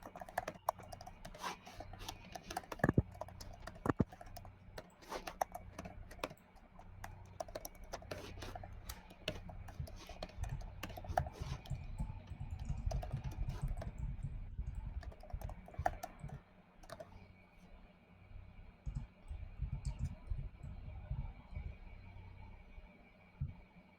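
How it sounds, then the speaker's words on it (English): Steady typing on a computer keyboard during a tabletop role-playing game session, with dense, irregular key clacks going on throughout at close range and a low hum underneath. "I'm really just typing about a lot right now."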